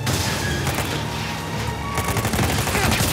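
Sustained gunfire in Uncharted 4, a steady run of shots and bursts mixed with explosive booms and heavy game action, loud and continuous throughout with no clear pauses.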